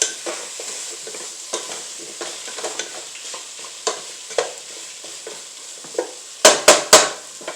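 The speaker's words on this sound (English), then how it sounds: "Once you've got your meatballs in there, give it a quick little stir." Meatballs get stirred in a hot pan for a meatball sub, with a continuous close sizzle and a series of spoon scrapes, ending in three sharp, loud knocks against the pan.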